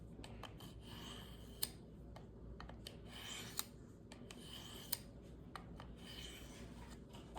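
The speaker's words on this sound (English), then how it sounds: "Just going back and forth to sharpen the edge." A knife blade is drawn back and forth across a sharpening surface, giving soft, steady rasping strokes with a few sharper ticks, quiet and close.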